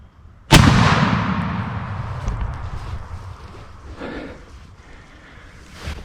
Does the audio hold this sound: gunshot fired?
yes